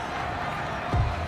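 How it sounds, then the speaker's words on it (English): A home stadium crowd at a 2022 Ravens vs Patriots football game cheers a call, a diffuse, fairly distant roar that holds steady and swells briefly with a low thump near the end. "This home crowd, they're happy with that call."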